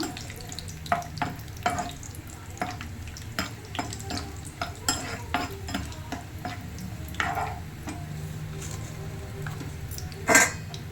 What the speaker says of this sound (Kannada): ಫ್ಲೇಮ್ ಕಡಿಮೆ ಇಟ್ಕೊಂಡು ಗೋಲ್ಡನ್ ಬ್ರೌನ್ ಬರೋವರೆಗೂ ಸ್ವಲ್ಪ ಹುರ್ಕೊಳ್ಳೋಣ